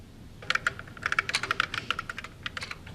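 Rapid typing on a computer keyboard, with bursts of close, crisp key clicks in an irregular rhythm and a short pause midway, no talking.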